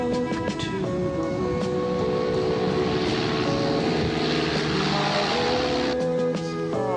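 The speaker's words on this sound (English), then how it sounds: "in their Piper Cub." Piper Cub propeller airplane flying past at an airshow, a steady droning engine hum with a rising pitch shift midway, moderately loud and alone.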